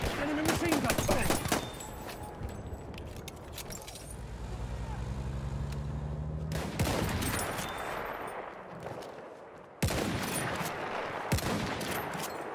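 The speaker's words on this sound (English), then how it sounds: "Enemy machine gun." Enemy machine gun fire in a war video game: dense, rattling bursts of automatic fire near the start and again toward the end, with engine rumble and other battle noise in between and voices talking over it.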